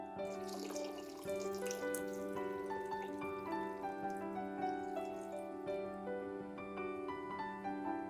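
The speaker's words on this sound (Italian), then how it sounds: "Versiamo 3 litri di acqua e portiamo a bollore." Three litres of water pouring into a cooking pot holding mushrooms and kombu seaweed, a steady close splashing stream with ringing, rising tones as the pot fills, heard alone.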